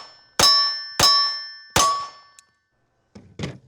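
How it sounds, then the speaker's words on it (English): Three sharp shots from a Mac 9 DS pistol, each followed by a ringing clang of steel targets, spaced about half a second apart, loud and close, then a short pause and a softer double impact near the end. "Here's Buck shooting the Mac 9 DS."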